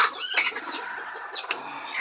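Desi hens cluck close by in a village coop shed, a steady run of short, high clucks and murmurs with a sharper call near the middle.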